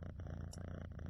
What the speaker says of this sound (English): That is a loud purr.